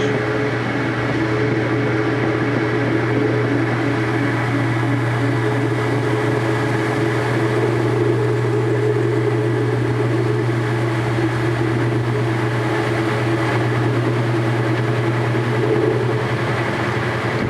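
A washing machine spins a single bed sheet, giving a steady, loud mechanical drone with a constant low hum and even whirring that holds unchanged throughout, with no voices.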